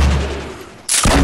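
A burst of Fortnite gunfire goes off loud and close after a short lull, a sudden sharp blast that cuts through a steady game background.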